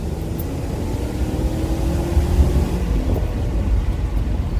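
A BMW E39 540i with the M62 V8 pulling uphill in second gear around 3,500 RPM, a steady, loud engine drone with a brief dip during a slow gear shift, mixed with wind and road rumble.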